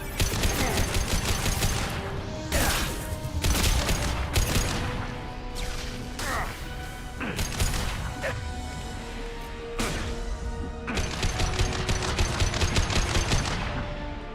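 Dense, sustained combat-weapon gunfire in Mass Effect, with bursts of rapid shots and sharp impacts layered together in a loud, continuous firefight that pauses only briefly before resuming.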